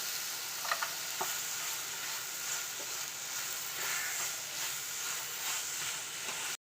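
Jaggery melting in a pan with cooked ripe plantains, giving a steady soft sizzle and hiss, with faint scraping taps from stirring now and then.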